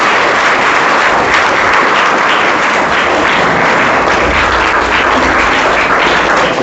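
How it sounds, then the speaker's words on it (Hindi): A large audience at an inter college in Jaunpur claps loudly and continuously, a dense, even roar of applause filling the hall with no pauses. "एक बार ताली जोर से बजा लीजिए"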